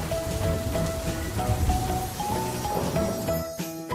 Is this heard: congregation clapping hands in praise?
no